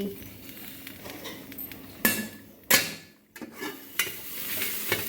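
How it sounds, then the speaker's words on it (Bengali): A knife chops cucumber on a board in a home kitchen, a few sharp, separated knocks over a low background hum, close and fairly loud. "এখানে আমি সবজি কাটছি, সবজি বলছি এখানে শশা কাটছি"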